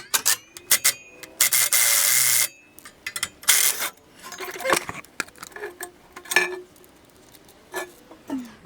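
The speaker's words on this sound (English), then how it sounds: "we'll pull the band clamp off the front" Metal V-band clamps are worked off and swapped on a GTA Trans Am Turbo: scraping, rubbing and ringing metallic clinks come up close in irregular bursts with short pauses between them.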